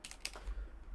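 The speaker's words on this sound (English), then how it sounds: "I have to like type in my commands." A quick run of soft clicks from typing on a computer keyboard, a handful of keystrokes close together, faint and alone.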